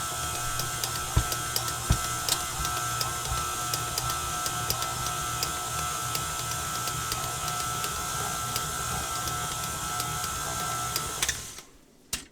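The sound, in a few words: mixer mixing sandwich bread dough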